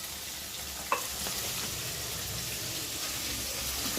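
Food sautéing in a pan gives a soft, continuous low sizzle, with a faint clink near the start and another sharp knock at the end; no talking.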